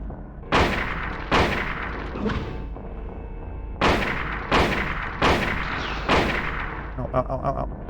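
Rifle gunfire in a Silent Hill boss fight: six loud, booming shots spaced about a second apart with short echoing tails, and faint in-game beeps at the end.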